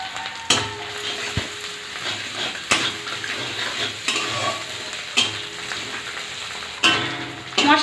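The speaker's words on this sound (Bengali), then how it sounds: "মশলাগুলি কষানো হয়ে গিয়েছে" Spices with turmeric and slit green chillies sautéed in a pan, with repeated loud scraping strokes of a spatula every second or two over a soft background sizzle, close up and with no voices.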